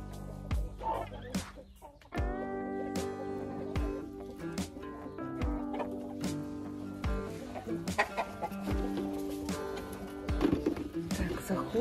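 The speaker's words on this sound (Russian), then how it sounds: "Вот это все мои курочки" Hens at a dacha yard cluck and murmur nearby, with sharp knocks and rustling throughout and a person talking over them.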